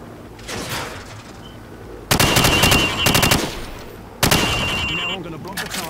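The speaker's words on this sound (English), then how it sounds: "Now, shoot at the targets while firing from the hip." Automatic rifle bursts fired from the hip at targets in Modern Warfare, loud, rapid strings of shots in two long volleys with short gaps, mixed with game voice chatter.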